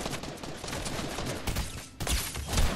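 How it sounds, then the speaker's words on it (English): A burst of rapid gunfire from an online shooter game, dense crackling shots running through the whole stretch at steady loudness, with sharper louder reports near the end and no talking. "is that gunshots I just heard?"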